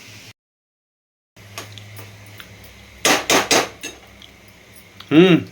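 Metal utensil clinking and scraping against a pan while vegetable momo stuffing is stirred, a few loud clustered knocks near the middle and another burst at the end, with quiet gaps between.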